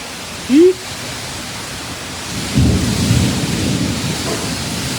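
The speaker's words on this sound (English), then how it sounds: "I think that storm's coming." A tropical storm rumbles with low thunder over steady rain and wind noise, broad and continuous, after a brief short sound near the start.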